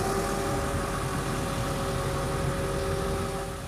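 A fuel truck's pump engaged by a red handle, running as a steady, loud mechanical drone with a constant whine, close by and unbroken throughout, easing off only slightly at the end.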